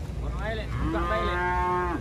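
A large cow lets out a long, rising moo close by, heard over the steady rumble of a running truck.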